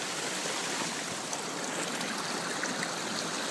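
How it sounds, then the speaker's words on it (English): Stream water rushes and funnels around a rock on a winter backpacking trip, a steady broadband gurgle and hiss that holds at an even level throughout, close by with no voices. "You can see where the water just funnels around this rock."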